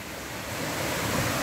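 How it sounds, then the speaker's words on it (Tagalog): Strong ocean waves break on a shore in rough weather, making a dense, continuous roar of surf that swells slightly louder, mixed with wind noise on the microphone. "Ayan, oh, malakas ang alon."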